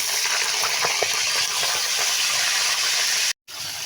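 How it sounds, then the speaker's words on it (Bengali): Thick pieces of bottle gourd fry in hot oil with a loud, continuous sizzle and scattered pops, heard close, broken by one short gap near the end. "সেই জন্য তেলের উপর লাউগুলো আমি ভেজে নেব"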